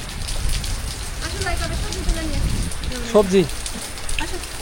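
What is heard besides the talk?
rain falling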